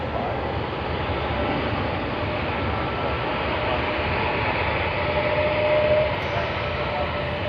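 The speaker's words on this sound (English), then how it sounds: "Sydney to Melbourne service QF413 with the Great Barrier Reef livery" A Qantas airliner with Great Barrier Reef livery, flight QF413 from Sydney to Melbourne, roars steadily at Sydney Airport, a continuous broadband engine rumble that swells slightly near the end.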